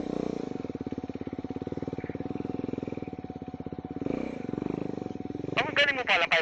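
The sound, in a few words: motorcycle riding on a mud trail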